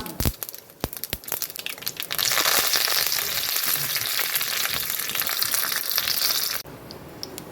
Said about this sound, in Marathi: सासम पटपटेल कुडला करबेव घालचें